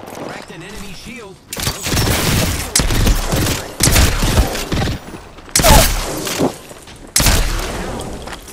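Gunfire in Apex Legends, loud close bursts of automatic weapon fire in several sharp volleys separated by short gaps, with a brief stretch of talk at the start.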